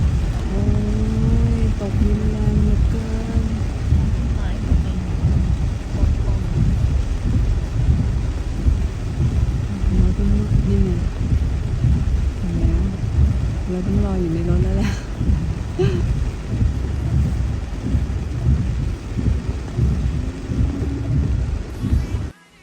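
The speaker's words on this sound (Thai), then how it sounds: "มาถึงที่พักฝนตกหนักมาก" Heavy rain pours steadily at a mountain homestay in Doi Chang, Chiang Rai, with rolling thunder underneath. The roar is loud and continuous, and people talk over it in places.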